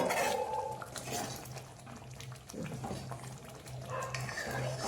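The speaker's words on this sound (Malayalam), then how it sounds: "പിന്നെ നമ്മൾ അടിയിലൊന്ന് ഇളക്കി കൊടുക്കണം." Soft scraping and clinking of a spoon stirring carrot kootu curry in a clay pot, quiet and intermittent, with a faint sizzle beneath.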